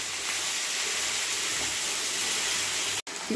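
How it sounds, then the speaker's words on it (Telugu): Okra (bendakaya) fries in a pan with a steady, close hiss and sizzle running throughout, broken by a brief dropout near the end. "ఇప్పుడు ఇది వేగాలి. ఇప్పుడు ఇది సగం వేగింది."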